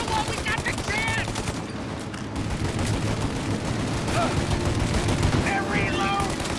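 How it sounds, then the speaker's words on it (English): Dense, continuous gunfire from a shootout in Mafia Definitive Edition, rapid automatic bursts and loud cracks overlapping without pause, with shouting voices breaking through in places. "Shoot out your gun when there's a break in the fire!"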